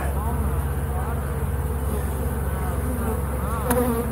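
Honey bees buzz steadily throughout a beehive inspection, a dense close swarm drone that holds constant with no break.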